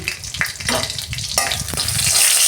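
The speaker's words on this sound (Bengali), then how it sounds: "কড়াই তেল দিচ্ছি আমি, একটা ফোড়ন ভাজবো। একটা শুকনো লঙ্কা দিচ্ছি, একটা তেজপাতা, গোটা জিরে অল্প দিচ্ছি" Dry red chilli, a bay leaf and a little whole cumin frying in hot oil in a kadai for a dal tempering, a close, steady sizzle with stirring clatter, growing louder and hissier toward the end.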